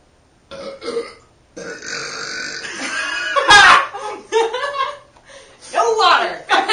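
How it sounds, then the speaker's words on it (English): Long, loud, drawn-out burps in a burping contest, several in a row at close range, with chuckling, laughter and talking between them. "Your burps are demasculating."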